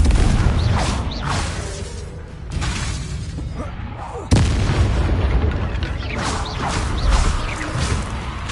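Fiery Confringo spell blasts in the Hogwarts Legacy video game, heavy booming explosions with crashing debris, a sharp new blast midway, layered over rumbling game noise and faint voices.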